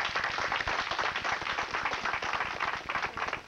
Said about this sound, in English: I'd like to have a round of applause for all their help keeping this club going.